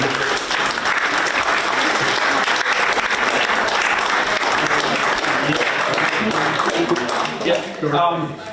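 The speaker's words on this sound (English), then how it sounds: "give yourselves a round of applause" Audience applause at a mock trial championship competition, dense sustained clapping from a crowd filling the room, loud and steady for about eight seconds before thinning near the end, with a voice briefly audible as it fades.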